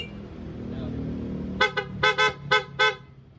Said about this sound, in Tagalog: Back to stock horn na tayo.